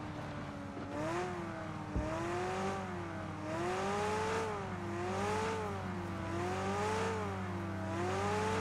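A car approaching from behind in PUBG, its engine humming and rising and falling in pitch in slow waves over steady game ambience.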